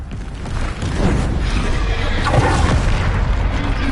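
A Bombarda blast spell booms out in Hogwarts Legacy combat, a dense continuous explosive roar filling the whole few seconds, loud and close, with no speech over it.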